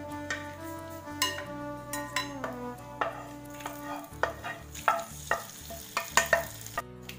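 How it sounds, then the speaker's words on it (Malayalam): A spoon stirs roasted coconut into koottukari in a pan, giving repeated scraping and clinking strokes in a steady rhythm with a faint sizzle, close and under soft background music. "ഇപ്പൊ നമ്മളിത് ചേർത്ത് കൊടുത്തിട്ടുണ്ട് ഇനി നല്ലോണം ഇളക്കുക"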